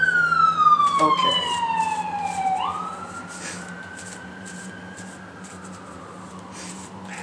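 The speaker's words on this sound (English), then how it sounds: "we wait for the siren to pass by" An emergency siren passes by outdoors at night, its wailing tone sliding downward and then leveling off as it fades into the distance, with a brief spoken word near the start.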